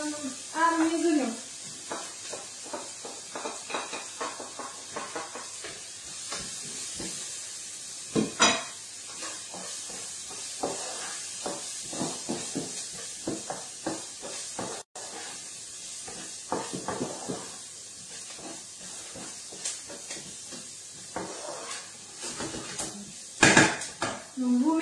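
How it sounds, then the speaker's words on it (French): Onions coated with ground spices such as coriander and cinnamon fry for a winter vegetable curry, giving a soft sizzle under a busy run of utensil scrapes, taps and clanks against the pan, heard up close. "vous mélangez pour bien enrober les oignons et puis vous laissez griller un petit peu quelques instants"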